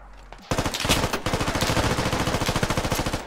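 Video game gunfire, a sustained rapid automatic burst of loud, evenly spaced shots running for about three seconds after a brief quiet start.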